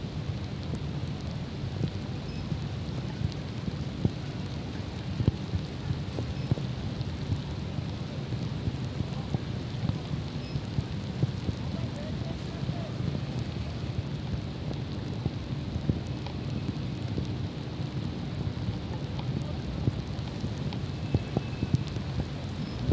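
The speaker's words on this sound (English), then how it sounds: "now they're calling the rain delay here" Rain falls steadily on an outdoor club cricket match between KCC Templars and HKCC Wanderers. It makes a constant dense hiss with scattered drop patter that runs unbroken and fairly loud throughout.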